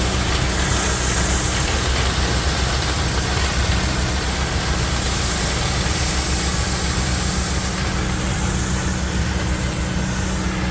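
Road sweeper machine's engine running, a loud, steady broadband roar with constant low hum and hiss, unbroken throughout and close by.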